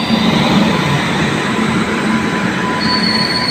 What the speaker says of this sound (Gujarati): તો મિત્રો પૂરી 50 મિનિટ લેટ આપણી ટ્રેન આવી ચૂકી છે.